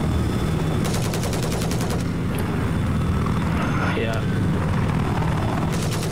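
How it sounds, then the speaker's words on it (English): Helicopter in a first-person military shooter game passing overhead, a steady loud rotor drone throughout, mixed with bursts of gunfire and players talking. "There's a helicopter above you."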